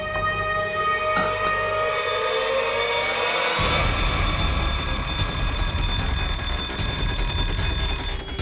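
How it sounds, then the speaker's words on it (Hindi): An electronic alarm rings loudly and steadily for several seconds, a shrill continuous bell-like tone with a second layer joining partway through, filling a tense scene with no talking. "अलार्म की आवाज आई"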